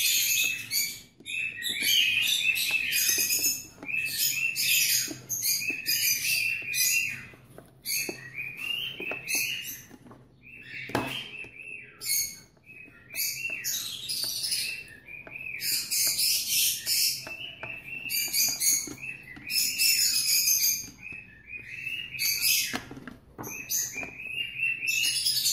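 Many small birds chirp and tweet busily in quick, overlapping bursts, fairly close, with brief pauses between flurries.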